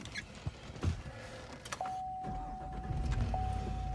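A brand new Cadillac Escalade starts up: a few clicks and a steady warning chime come first, then the engine catches with a deep rumble that settles into a low, steady idle.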